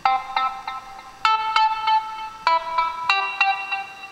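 A piano app on an iPhone set to a Delay Synth sound plays a short melody of bright synthetic notes, each tapped tone trailing off in echoing repeats, quiet and close with no talking.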